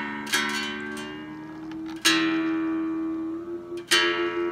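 A guitar's sixth string is plucked three times while being tuned up toward E and overshooting sharp; each pluck rings out and sustains with a slight pitch shift between notes, close and clear, with no talking.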